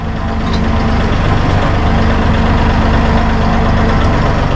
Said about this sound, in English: show you how easy it is to operate this backhoe